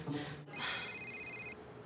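A telephone rings faintly, a brief electronic trill followed by a longer steady tone that cuts off abruptly, alone in a quiet room.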